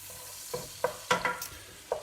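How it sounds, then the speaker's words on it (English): A spoon scrapes and stirs melting caramel nougat in a pan, giving several distinct knocks and scrapes spaced irregularly over a low, steady hiss, close up and with no voices. "Let's give it a wee stir."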